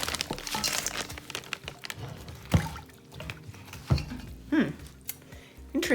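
Alginate powder for hand molding is dumped into water, bringing crinkling of the bag, soft pours and splashes, and a few knocks of a container, close and uneven.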